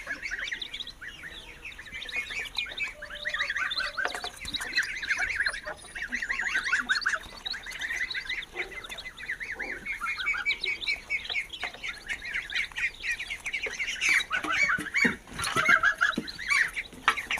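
A busy chorus of high, rapid peeping from nine newly hatched ducklings, close by and continuous, with occasional louder calls from the mother duck mixed in.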